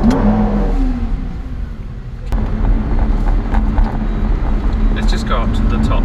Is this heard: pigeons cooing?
no